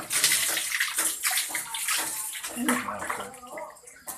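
Water pours and splashes into a bathtub with a continuous rushing hiss, while soft voices murmur intermittently in the background.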